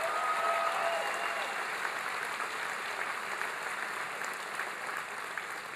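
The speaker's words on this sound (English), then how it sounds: "Please give them a big round of applause." Large crowd applause at a presidential health care town hall in Green Bay, a dense, continuous roar of clapping that holds steady for several seconds.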